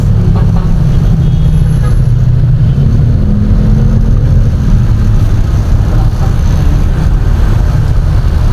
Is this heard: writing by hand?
no